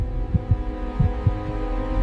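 A heartbeat sound effect pulses under a low humming drone in a horror narration, giving steady paired thumps roughly every three-quarters of a second, loud and close, with no speech over it.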